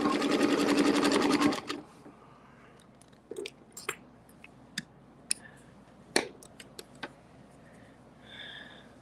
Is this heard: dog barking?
no